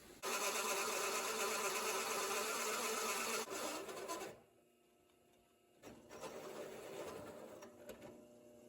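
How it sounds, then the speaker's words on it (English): A high-pitched power drill whines steadily for several seconds drilling out center-punched holes on a homemade ATV, stops briefly, then starts again at a slightly lower, uneven pitch. "start drilling them out"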